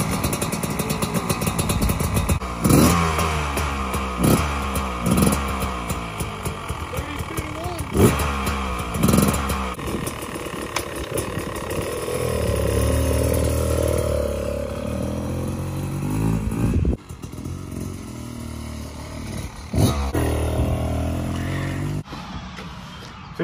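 A Beta 300 RR Race Edition dirt bike starts up and revs, its two-stroke engine rising and falling in repeated loud blips close by in a yard, with a longer steady run in the middle.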